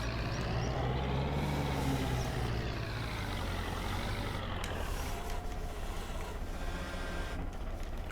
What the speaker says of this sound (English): I will just use our wonderful front loader to put the weight on the trailer.